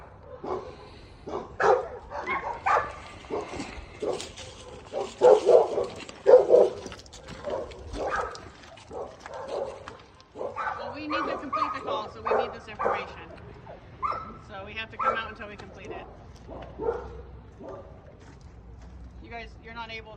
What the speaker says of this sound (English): there's another dog over there